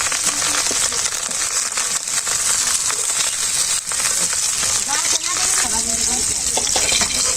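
Tilapia fish frying in hot oil, a loud, steady, close crackle and sizzle with scraping stirs over it, continuous throughout.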